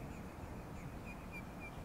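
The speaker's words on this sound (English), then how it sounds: "You can hear the birds in the background." Faint, thin bird chirps scattered over a steady outdoor hiss at a calm Florida sunset with very little wind, distant and soft with no talking.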